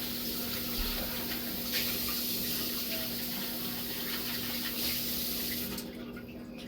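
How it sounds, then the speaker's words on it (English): Tap water runs steadily and fairly loud while a bowl is rinsed during pumpkin cookie baking, a continuous broadband rush with a low hum underneath that eases off near the end. "now I need to rinse this out"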